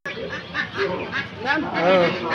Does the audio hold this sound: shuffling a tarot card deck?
no